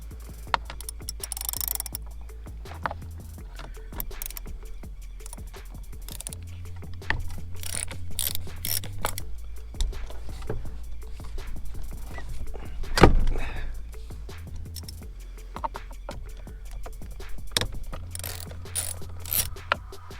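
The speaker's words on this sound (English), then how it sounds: "I might have to go get a ratchet." Ratchet clicking rapidly as it turns the steering wheel screws on a Jeep XJ, a close, steady run of small ticks with short pauses and one sharper metallic clack partway through.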